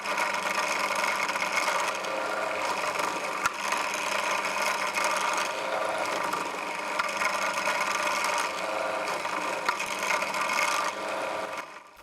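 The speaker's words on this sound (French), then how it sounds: "je vais venir repercer un tout petit peu plus gros" A drill widens a hole in a carbon fiber knife handle, giving a continuous, even whine with a faint grinding edge that runs close and unbroken for about twelve seconds before stopping.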